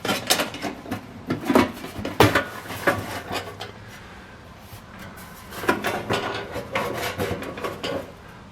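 A vintage unmarked metal tackle box being handled and opened, with several clunks and metallic knocks, a quieter rustling stretch, then more rattling as the lid and tray shift, heard close up with no voices.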